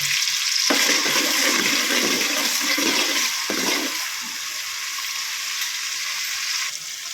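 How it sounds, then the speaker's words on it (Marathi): Onion and tomato frying in oil with whole spices in a pan, a loud continuous hiss that drops in level partway through, with no talk. "तेल घेतलं घालून त्यामध्ये खडे मसाले त्यानंतर कांदा घातला त्यानंतर टोमॅटो घातलेला आहे तर आता व्यवस्थित शिजून घेते हे सर्व"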